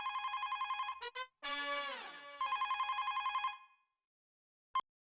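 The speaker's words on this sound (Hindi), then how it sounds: "बेटा जरा फोन उठाना।" A telephone rings indoors in repeated trilling bursts, a pause, then another ringing burst and a short final chirp, fairly quiet with no voices over it.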